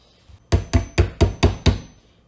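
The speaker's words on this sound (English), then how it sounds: "Just take my hammer." A hammer taps pins back into the thick base of a wooden musket stock, six sharp evenly spaced knocks after a faint lighter tap, close and loud with no talk.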